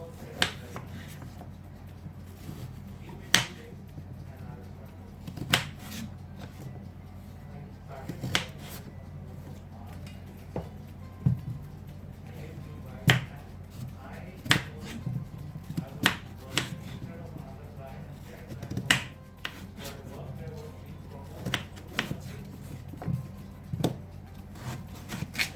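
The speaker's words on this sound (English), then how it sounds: "Cut the potatoes into wedges." Knife slicing potatoes into wedges for garlic roast potatoes, a series of sharp, irregular clicks and chops on a board, close and moderately loud, repeating every second or so with quiet pauses.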